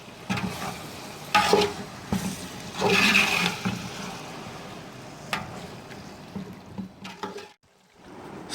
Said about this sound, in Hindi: 6 से 7 मिनट के लिए अच्छी तरह से इसको भूनना है ताकि हमारा टमाटर अच्छी तरह से गल जाए